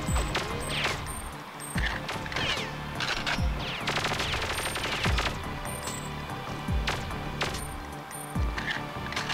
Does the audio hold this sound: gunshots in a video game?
yes